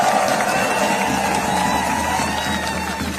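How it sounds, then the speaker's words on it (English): A crowd at a Free DC march applauds and cheers for Mayor Sharon Pratt, a loud, continuous roar of many voices and clapping with no break, carried in open air. "Give her a warm round of applause."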